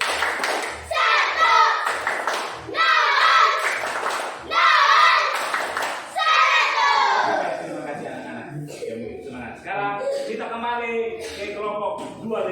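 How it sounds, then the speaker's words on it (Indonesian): A classroom of children does the rhythmic 'tepuk 100' clapping chant, bursts of clapping mixed with young voices chanting, loud and close, followed by quieter scattered talk. "mari kita tepuk 100 untuk kelompok 4 dulu"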